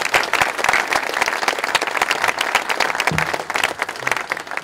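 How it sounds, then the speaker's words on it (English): An audience at the Portland Japanese Garden groundbreaking celebration gives a round of applause for the garden's group of supporters, a dense, sustained burst of many hands clapping close by. "they deserve, as a group, a round of applause and our appreciation"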